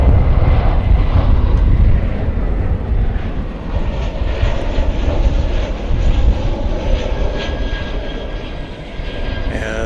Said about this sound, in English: As we see an American Airlines Airbus A321 arriving from Salt Lake City, Utah.